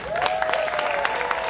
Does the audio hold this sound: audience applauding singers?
yes